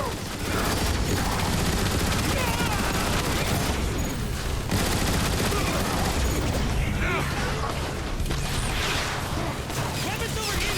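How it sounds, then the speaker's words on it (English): Enemy gunfire in the Transformers: War for Cybertron video game, a dense, relentless fusillade of rapid weapon fire and mechanical clatter, loud and continuous, with a voice calling out over the shooting. "They're firing from the windows!"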